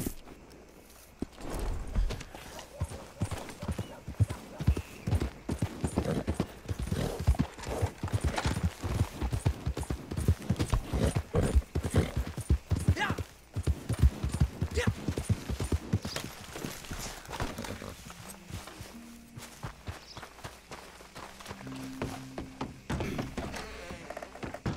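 Horse hooves clip-clopping in Red Dead Online, a loud, rapid run of close hoofbeats that trails off into quieter ambience and faint game music near the end.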